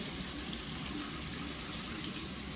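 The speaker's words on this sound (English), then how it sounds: "So I'll just run this under the water." Steady tap water runs over a waterproof phone case held under the faucet, a continuous close hissing gush that stays level from start to end with no pauses.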